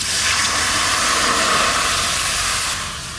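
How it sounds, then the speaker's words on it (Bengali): Water poured into a hot pan holding dried lote fish hisses in a loud, dense, steady rush that fades slightly near the end, with no voices. "এবার আমি জল দিয়ে দেবো,"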